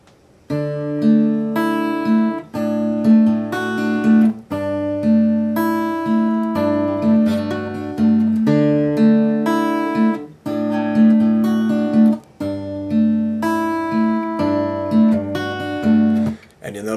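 Guitar chords from a song strummed in a repeating pattern, several bars of steady rhythmic strums ringing clearly with no talking.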